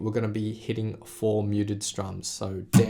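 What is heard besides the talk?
None of the usual background noises is heard.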